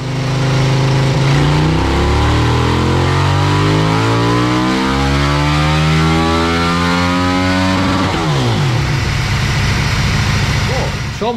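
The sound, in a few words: tuned KTM RC8/Super Duke hybrid motorcycle engine revving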